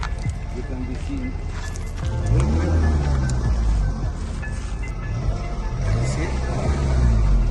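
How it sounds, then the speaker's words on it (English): Failing BMW engine revving in repeated rising and falling surges, loud and close, while someone speaks briefly over it. "Tell him to rev more."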